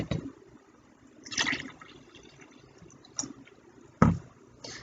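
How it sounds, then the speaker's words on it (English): Water is poured into a glass, giving a faint, close trickle with a few brief splashy bursts and gurgles scattered through a mostly quiet stretch. "Start by filling the glass 1/3 of the way with water."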